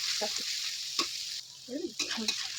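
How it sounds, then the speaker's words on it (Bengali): Capsicum and chillies sizzle steadily in a hot pan for chowmein, with a few scraping stirs of a utensil and faint voices in the background. "ভালোভাবে ভাজা হোক"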